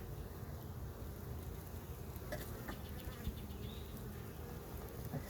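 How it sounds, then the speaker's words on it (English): Honey bees hum on a hive frame, a soft steady buzzing drone that continues through the whole stretch with a few faint higher whines as individual bees fly close, and no one talks. "I'm going to look at every bee on here."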